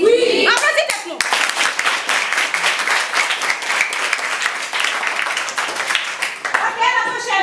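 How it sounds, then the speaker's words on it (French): Audience clapping at a school visit, dense sustained applause lasting several seconds, with children's voices and talk at the start and end. "Applaudissez nous."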